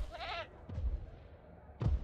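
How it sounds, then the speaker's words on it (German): Sheep bleating in the Jurassic World Evolution video game: one short wavering bleat at the start, then scattered dull thumps and a low background hum, moderately faint. "Es blökt rum."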